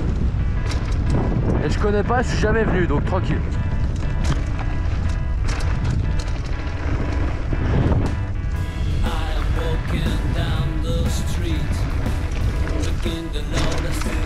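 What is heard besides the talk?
wind noise on microphone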